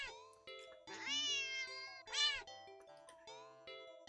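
A cat meows repeatedly in the video game Do Not Take This Cat Home, several clear, moderately loud drawn-out meows over a layer of tonal game music.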